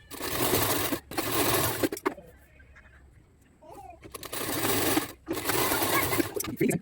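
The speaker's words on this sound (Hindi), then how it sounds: "चलो फटाफट से हम अपनी फिटिंग की यहाँ पे निशान के अकॉर्डिंग फिटिंग की सिलाई लगाते हैं" A sewing machine stitches a blouse fitting seam, whirring loudly and steadily up close, stopping for about two seconds of quiet with faint handling sounds before running again in longer bursts.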